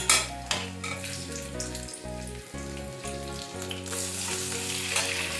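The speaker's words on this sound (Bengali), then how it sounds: "আদা বাটাটা নাড়তে নাড়তে দিয়ে দিচ্ছি দুটো চেরা কাঁচা লঙ্কা আর টমেটো কুচি" Ginger paste sizzles and frying in oil as it is stirred with slit green chillies and chopped tomato for a vegetarian jackfruit curry, a steady hiss with soft stirring under continuous background music.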